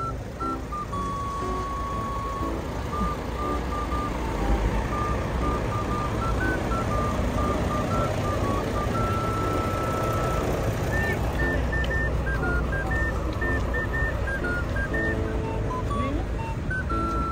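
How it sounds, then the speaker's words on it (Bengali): Jammed street traffic in Bucharest, a steady roar of idling engines with repeated high beeping tones and horn-like calls, continuous and close, with faint talk mixed in. "এটা কিন্তু রাস্তায় ট্রাফিক জ্যাম"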